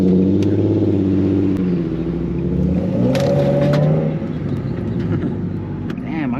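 A tuned Nissan 370Z with a manual gearbox drives along, its engine droning steadily loud and close with pitch rising and falling through revs, plus faint cabin noises.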